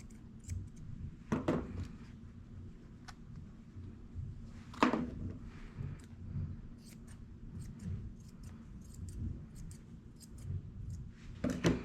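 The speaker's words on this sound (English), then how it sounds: "first we're gonna trim these feet" Scissors snip the foot hair of a female dog during grooming, with a few sharp, close cutting bursts scattered among quieter clicks and rustling.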